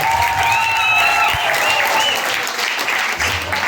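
An audience at a school talent show claps in sustained, even applause, with a few voice tones and whoops riding on top.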